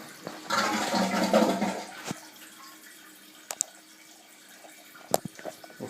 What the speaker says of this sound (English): We'll flush it a few more times.